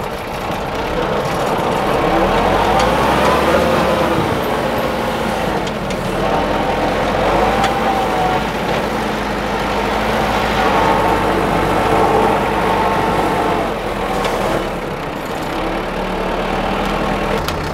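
A Kubota GT-5 mini tractor engine runs steadily at a medium, even pitch while the tractor turns in place in low gear. The engine rumbles close and loud for the whole stretch, with no talking.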